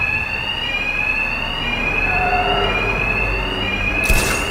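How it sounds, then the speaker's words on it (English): A steady, loud electronic alarm rings continuously in the video game Batman Arkham Knight, with a sustained high tone over a rumbling background and a short burst of noise near the end. "Two-Face's thugs won't hear me over the alarm"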